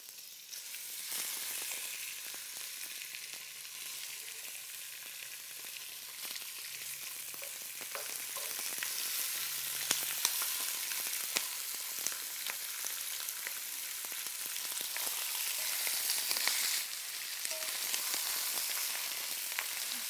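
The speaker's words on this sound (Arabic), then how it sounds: "الزيت عندي هيك حامي بقدر انزل فيه الدجاج." Chicken pieces frying in hot oil, a steady loud sizzle and crackle running throughout with small pops, no talking.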